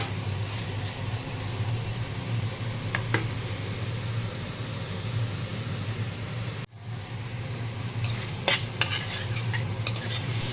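Vegetables and a spice mixture frying in oil crackle with a constant low sizzle while a spoon scrapes and clinks against the pan, with brief sharper scraping bursts near the end.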